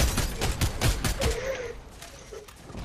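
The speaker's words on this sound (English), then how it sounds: "They're shooting at him." Bursts of rapid gunfire in the video game Fortnite crack out in a quick, loud run that thins and fades toward the end, with a faint voice beneath.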